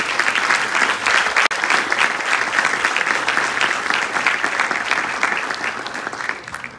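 Steady, dense applause from an audience at a nursing capping ceremony, continuous clapping at full loudness for several seconds that eases slightly toward the end, with no talk over it.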